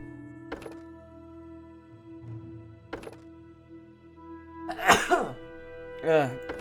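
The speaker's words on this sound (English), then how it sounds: "Sneeze. Sorry about that. I had a sneeze." A sudden close sneeze bursts out in a quiet room over a faint steady hum, followed by a short sniffly vocal aftermath.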